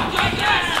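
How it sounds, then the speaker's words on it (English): Wrestling crowd at an RCW indoor show cheering and shouting in a brief, loud, continuous roar. "The crowd's getting behind Scott here"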